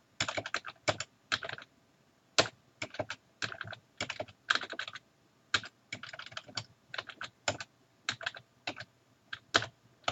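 Typing on a computer keyboard, with short bursts of crisp close key clicks separated by brief pauses, irregular and fairly quiet, heard alone.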